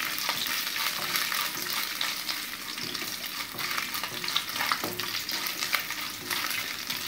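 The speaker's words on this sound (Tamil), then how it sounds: "ஒரு கோல்டன் ப்ரௌன் வர வரைக்கும் நம்ம இதை ஃப்ரை பண்ணிக்கணும்" Coconut pieces fried in oil until golden brown for broken wheat payasam, giving a dense, steady crackling sizzle with frequent small scrapes of stirring throughout, close and fairly loud.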